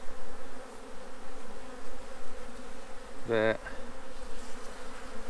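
A dense, steady buzz of many honeybees on a hive frame hums throughout, with a brief higher tone and a short spoken word partway through.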